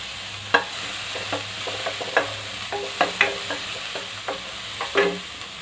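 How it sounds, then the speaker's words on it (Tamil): Garlic and onion sauté in a pan for vegetable soup, a constant hissing sizzle broken by regular scraping and clinking stir strokes, close and clear, with no voices. "அந்த பூண்டும் வெங்காயம் போட்டு நல்லா வதக்கிட்டு"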